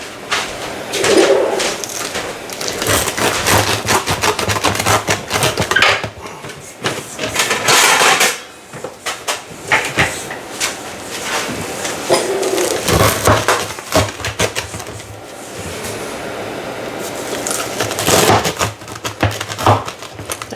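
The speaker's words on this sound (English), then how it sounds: "Mark will go ahead and cut that with our little pizza cutter there" A small pizza cutter rolling through a homemade taco pizza gives a steady, loud crunching and crackling of crust, close up and continuous with brief pauses, and no talking.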